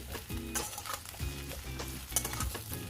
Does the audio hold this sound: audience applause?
no